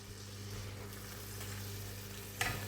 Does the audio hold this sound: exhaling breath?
no